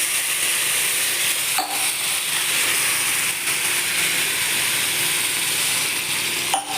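Semolina, wheat rava and vermicelli are stirred in a pot with water, giving a constant hissing sizzle and occasional short scraping strokes, loud and close.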